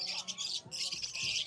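Cockatiels at a pet market, a dense run of high chirps and tweets from several birds, close and busy, with a faint murmur of voices underneath.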